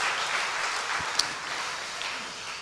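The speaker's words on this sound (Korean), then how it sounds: "우리 한번 축복과 축하의 박수를 한번 합시다" A steady wash of clapping from a sizeable congregation at an early-morning church prayer service fills the room, continuous and moderately loud with no voices rising above it.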